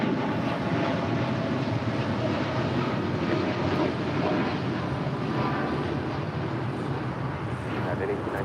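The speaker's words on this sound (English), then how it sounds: "That is United Airlines 1897 departing to Chicago O'Hare on a 787-10 Dreamliner" A United Airlines Boeing 787-10 Dreamliner, flight 1897 to Chicago O'Hare, departing at LAX, heard as a steady, broad jet engine roar that stays loud and constant from start to finish.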